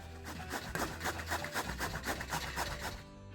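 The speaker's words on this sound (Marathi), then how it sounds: "आता आपण दुधी किसून घेऊया" A peeled bottle gourd is rubbed against a hand grater, giving a steady run of close, rhythmic rasping strokes, about three per second, with no talking.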